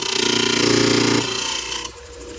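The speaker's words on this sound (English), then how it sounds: "that's a fine trim saw" A Diamond Pacific Genie trim saw cuts a small corner off a piece, a loud steady grinding whine close to the mic that drops off abruptly after about a second and a half, with no voices.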